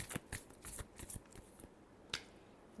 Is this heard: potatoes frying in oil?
no